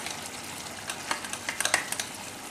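Curd hits chicken frying in a pan and sizzles, with a soft frying hiss and a few quick stirring clicks and scrapes near the middle and end.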